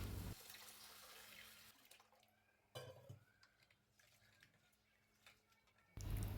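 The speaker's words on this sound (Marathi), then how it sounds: "तर आता हे तांदूळ धुवून घ्यायचे आहेत." Dawat rice is swished and washed in water in a kitchen, with running tap water, sloshing and small clinks of the vessel, loud at the start and end and quieter in between.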